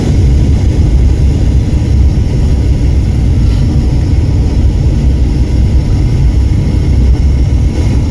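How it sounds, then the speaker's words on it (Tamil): A passenger airplane landing at Agatti Island airport in Lakshadweep, heard from inside as a loud, continuous low engine roar with steady broadband rushing noise throughout, no talking. "ஸோ இந்த ஐலாண்டில் தான் நம்ம இப்போ வந்து ஃப்ளைட் லேண்ட் ஆக போகுது."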